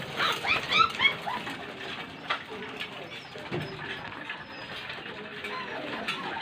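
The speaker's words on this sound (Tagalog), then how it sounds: "So ganyan lang ang pagpapatuka natin mga kalapatids." Racing pigeons gather at feeding time in a loft, cooing and shuffling with scattered pecking and fluttering, close by, with a faint voice at moments.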